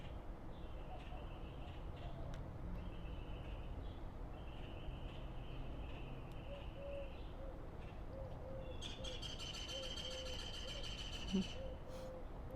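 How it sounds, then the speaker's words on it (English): Chihuahuan ravens, doves and pigeons call in the open, with repeated cooing and steady calls, then a burst of harsher raven croaking and chattering near the end over faint background noise. "Those are the Chihuahuan ravens, by the way. And you can also hear the doves and the pigeons."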